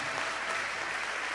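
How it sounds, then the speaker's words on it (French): A church congregation applauding during a Sunday service, a brief, even, fairly soft wash of clapping that continues without pause. "On applaudit Seigneur, le roi des rois"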